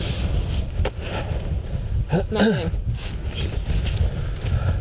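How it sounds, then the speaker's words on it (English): Strong winter wind on Quandary Peak buffeting the microphone in gusts, a low roaring rumble throughout, with a brief voice partway through. "It's really freaking windy."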